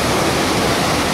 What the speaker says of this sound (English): Well, we are at the falls.